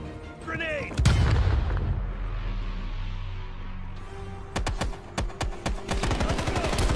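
A grenade blast and heavy gunfire in Call of Duty: Black Ops Cold War fill the scene with a loud booming roar, then bursts of rapid automatic shots crack out, with a shouted voice and combat noise layered on top.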